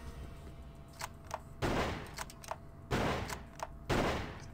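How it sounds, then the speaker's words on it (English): Shotgun blasts in the Blade Runner video game, several loud broadband bursts at uneven intervals over a steady background hum, with no talking. "Just shooting right at us with a shotgun."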